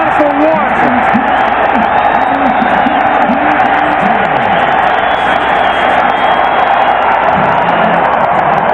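Dense football stadium crowd roaring and cheering at a 1999 Denver at New England NFL game, a loud sustained wall of noise with a commentator's voice running underneath throughout.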